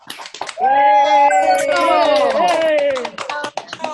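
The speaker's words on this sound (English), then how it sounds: "another big round of applause" Scattered hand clapping mixed with loud whooping and cheering voices on a live online musical call, lasting a few seconds before thinning out.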